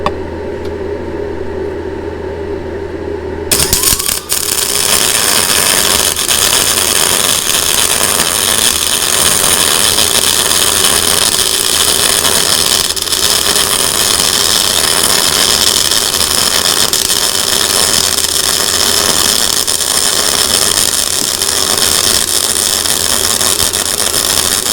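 An Andeli MCT-416 welder running at 140 volts lays a bead, giving a loud, steady, unbroken crackling buzz that starts abruptly after a quieter hum and holds for over twenty seconds.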